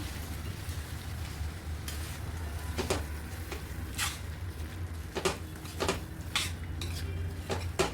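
White beans being stirred into masala in a metal pot, a spoon clanking and scraping against the sides in repeated bursts over a faint background sizzle.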